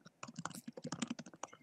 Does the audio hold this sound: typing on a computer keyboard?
yes